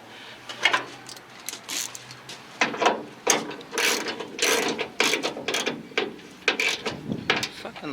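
A hand ratchet clicks in repeated bursts while tightening bolts on a hood brace being installed on a GMC C15 square-body truck, close and crisp with pauses between strokes.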